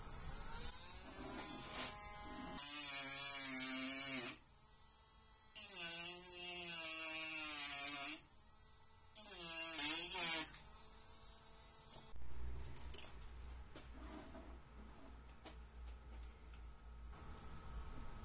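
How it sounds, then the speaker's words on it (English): A Dremel rotary tool cuts down transformer screws in three loud, high, whining bursts of a couple of seconds each, separated by short pauses, followed by quieter handling noises. "I needed a little help from the Dremel tool"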